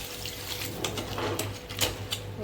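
Water pours steadily into a pan of crab gravy seasoned with salt, a continuous soft splashing and trickling, close and fairly quiet, with no talking.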